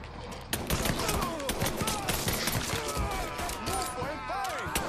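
Dense, continuous gunfire from Mafia III, loud bursts and shots layered close together throughout, with the sound of people talking mixed in.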